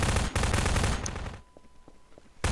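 Dense, loud automatic gunfire in the video game Half-Life 2 via the Synergy co-op mod crackles in rapid bursts, drops to scattered single shots, then erupts again at close range.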